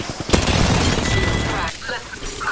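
Gunfire in the battle-royale video game Apex Legends, a loud dense burst of rapid shots over about a second and a half, followed by quieter game noise.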